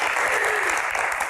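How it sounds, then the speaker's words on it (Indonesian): Studio audience clapping in a burst of dense, steady applause filling the whole short moment, with no voices over it. "Tepuk tangannya mana?"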